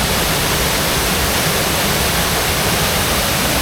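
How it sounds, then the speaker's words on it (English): Waterfall in Yorkshire woodland roaring as a steady, broadband rush of falling water, continuous and fairly loud with no voices over it. "with the waterfall just in the background"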